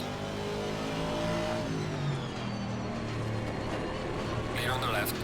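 A race car engine in Assetto Corsa Competizione revs and climbs through the gears with rising and falling tones, steady and fairly close, while someone talks over it.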